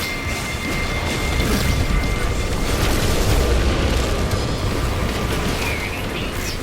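Explosion tearing apart the engines of a pirate dreadnought in No Man's Sky, a loud sustained booming roar that rumbles steadily for several seconds with no talking over it.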